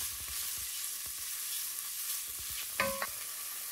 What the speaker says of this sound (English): Fry them together with the butter. Add 1 sliced onion and fry for another minute.